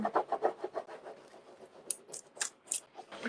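A rubbing tool burnishes a wall transfer with rapid, quiet rubbing and scraping strokes, a quick rhythmic burst at first, then a few sharper, scratchier swipes.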